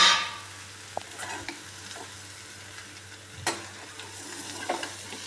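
Bitter gourd (karela) frying and being stirred in a pan, with soft continuous sizzling and a few brief scraping clicks, fairly quiet and steady with no voices.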